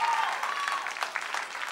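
Audience at a televised dance competition gala, a season of So You Think You Can Dance, applauding the dancers; a steady wash of clapping with crowd murmur and a voice under it.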